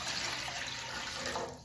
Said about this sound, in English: So I've got my water right here. I'm going to pour it in.